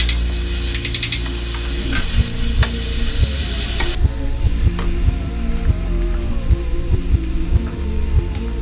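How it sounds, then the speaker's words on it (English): Onions sizzling in a frying pan as they are stirred, a loud, dense hiss with scraping stir strokes, brighter and harsher for the first few seconds before settling, with no voices. "Stir, stir, stir. Looking good. More stir."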